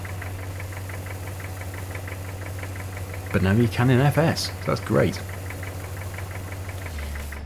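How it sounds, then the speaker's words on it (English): A combine harvester engine idles in the Farming Simulator video game with a steady low drone and faint regular knocking throughout, while someone talks over it partway through. "Okay, we'll turn the Combine's engine off."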